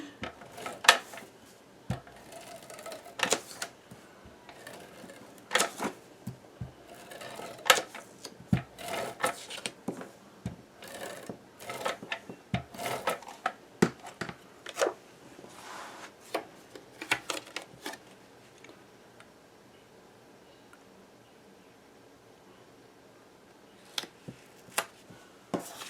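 Repeated sharp tearing and tapping bursts from an ATG adhesive tape gun laying tape while an accordion mini album is assembled, irregular and close, thinning out to a few isolated clicks near the end.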